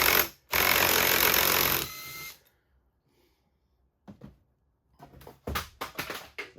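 An impact wrench takes the flywheel nut off a 1999 Husqvarna 394 chainsaw, giving a loud close burst of rattling hammering followed by quiet, then a few short clunks and tool handling sounds.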